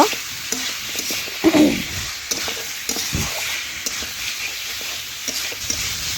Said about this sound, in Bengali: জল দিয়ে ঝোল ভালোভাবে একটু ফুটিয়ে নেব